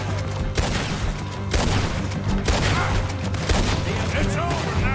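Gunfire in the Red Dead Redemption 2 video game on PS4, with loud, rapid shots and booming blasts cracking one after another over a dense, continuous rumble of battle; voices can be heard among the shooting.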